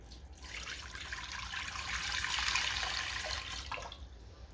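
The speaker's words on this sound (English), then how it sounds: "Then let's go ahead and add in a quart of water." A quart of water runs steadily into a pot fitted with a trivet for jars, a close, soft pouring that swells and then tapers off, with no talk.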